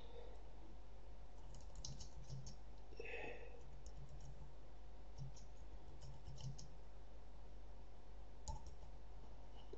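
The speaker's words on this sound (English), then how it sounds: "As you see, you can type anything here." Keys tapped on a computer keyboard in quick uneven bursts, faint and close, over a steady low hum with no voices.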